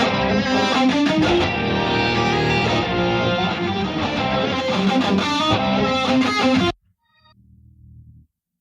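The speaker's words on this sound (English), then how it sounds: "So over here we actually have the rest of the band apart from the drums, so it sounds like this." Full band without drums plays loud and dense, distorted guitars and sustained harmonic layers running continuously for several seconds, then cutting off abruptly to a brief quieter low tail.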